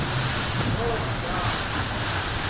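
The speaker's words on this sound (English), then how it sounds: "Folks, you can really hear this wind whipping around this building." Hurricane Hermine's wind whips around a building in St. Marks, Florida, as a loud, unbroken roar with heavy buffeting against the microphone and a faint voice partly buried beneath.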